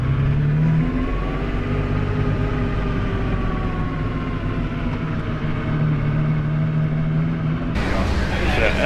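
Ferrari F50 engine at Monterey Car Week, a sustained loud high-pitched V12 drone that holds and shifts gently, ending in a sudden noisy burst.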